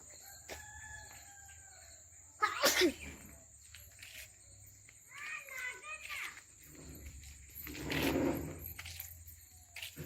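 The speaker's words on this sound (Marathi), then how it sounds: "इथे बघा इथे कोंबडी आहे." A chicken clucks and squawks nearby in a Konkan village outdoors, with people talking and children's voices around it.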